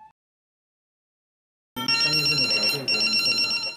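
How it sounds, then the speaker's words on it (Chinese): A pager beeps out a bright, repeating electronic melody of chirping tones that starts suddenly after a silent pause and carries on loud and steady to the end. "BB 声响起，机身的灯闪烁"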